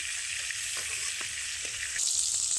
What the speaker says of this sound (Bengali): আলুগুলোকে একদমই লালচে লালচে করে ভেজে নেব